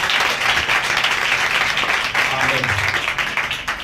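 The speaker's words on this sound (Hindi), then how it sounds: "भाई इम्तियाज़ के लिए भी ज़ोरदार, पूरी वर्शिप टीम के लिए ज़ोरदार तालियां बजाएं।" Church congregation gives the worship team loud, sustained applause, dense clapping filling the room while a voice speaks over it.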